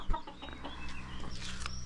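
Chickens in a Nepali village yard cluck in short, close bursts over a steady low background hum, several clucks spaced through the moment with no voices.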